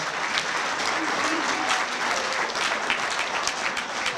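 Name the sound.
banquet audience applause for the line coaches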